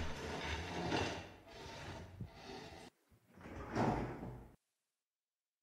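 Sliding-door-like scrapes and thuds come from an attic in a horror video game, several rough grinding pushes that are faint and muffled, with short pauses between them and then silence.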